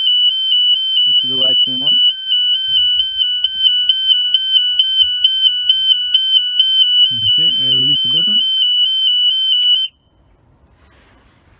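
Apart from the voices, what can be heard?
Niftylift cage overload alarm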